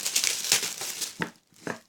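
Orange tissue paper crinkles and rustles as a pouch is unwrapped, a close, dense crackling that comes in a few bursts with short pauses between.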